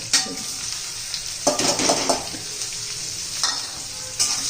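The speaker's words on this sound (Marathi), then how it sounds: "तेलामध्ये चांगली परतून घेऊया" Stuffed bitter gourds sauté in hot oil in a pan, a continuous sizzle punctuated by several scraping stirs and light clinks of a utensil against metal, close and without speech.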